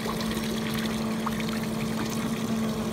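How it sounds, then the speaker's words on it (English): Water pours steadily into a backyard swimming pool from a heating setup, a constant close rushing trickle with a faint steady hum running underneath, no voices. "that's the water coming in the pool"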